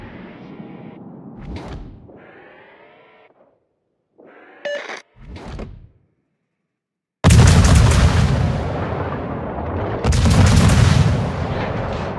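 Naval gun salvos in a tier-ten warship clan battle video game: two loud booming blasts, each trailing into a long rolling rumble. They follow short clipped voice callouts and brief electronic beeps.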